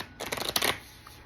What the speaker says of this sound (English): I shuffle 3 times,